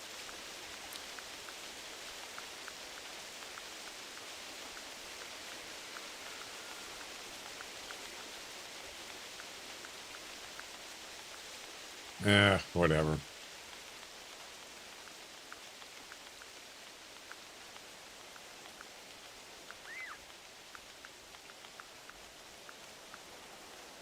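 Steady rainfall in theHunter Classic, a soft continuous hiss of drops filling the whole stretch at low level, with a brief muffled voice and a short clatter near the middle.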